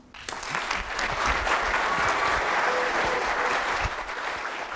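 Audience applause welcoming a speaker at a science lecture celebration, a steady roomful of clapping that swells in quickly and holds for several seconds, full and moderately close.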